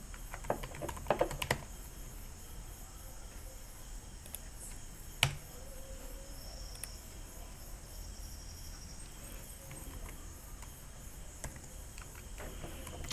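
A password tapped out on a computer keyboard: a quick cluster of keystrokes early, then scattered single clicks over a steady background hiss, close and fairly quiet.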